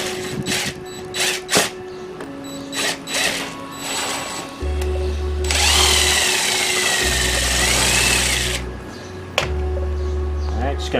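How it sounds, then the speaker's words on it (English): A power drill bores a screw hole while a front lip is fitted to a 2017 Subaru Forester XT, giving a loud, sustained whirring burst of several seconds after short clicks and handling noises. "we're going to use our drill"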